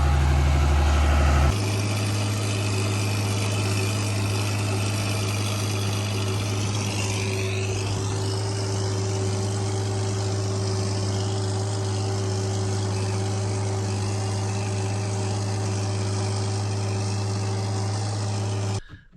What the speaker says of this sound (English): I'm gonna get on the tractor and see what we can do.